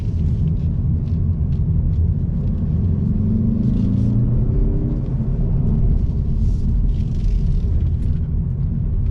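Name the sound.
2021 Mazda 3 Turbo AWD accelerating and braking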